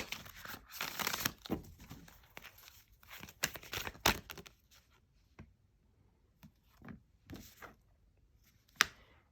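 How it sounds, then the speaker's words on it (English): A deck of cards being shuffled during a tarot-style reading, giving dense papery riffling bursts in the first half and a few sparse, lighter flicks and taps later, with no talk. "Let's shuffle one more."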